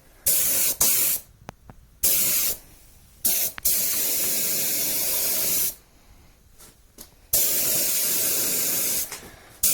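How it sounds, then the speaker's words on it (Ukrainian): Paint sprayed onto stamped steel car wheel rims, first around the rim edges: loud, steady hissing bursts of varying length, several short and a few lasting two to three seconds, separated by quiet pauses, close and with no talking. "замішую фарбу, буду пшикати"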